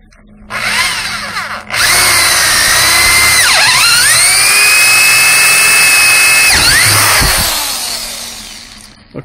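A power drill whines loudly up close, its pitch dipping as the bit bites into wooden planks, then spinning steadily before winding down.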